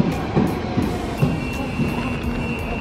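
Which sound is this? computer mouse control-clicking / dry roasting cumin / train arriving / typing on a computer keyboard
train arriving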